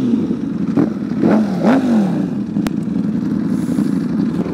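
Honda CBR Fireblade SP sportbike rushing past in a loud flyby, engine pitch rising and falling through several quick revs over steady roadside rumble, with a sharp click partway through.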